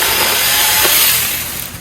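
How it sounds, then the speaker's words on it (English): A battery-powered hand-held chainsaw cuts through tree branches outdoors, a loud, steady high whine of the motor and chain that eases off toward the end. "great little chainsaw, easy to use, rechargeable batteries"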